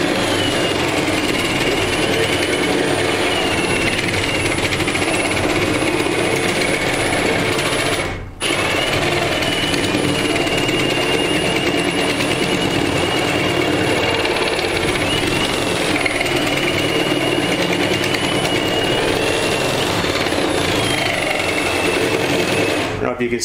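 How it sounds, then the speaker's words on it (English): A 7/8-inch spade bit drilling through the laminated wall of a trailer, just above the floor track, makes a continuous loud grinding whir that runs for over twenty seconds with one brief stop. "just doing the hole in the wall for the electrical, just using a 7/8 spade bit about 2 inches above the track here"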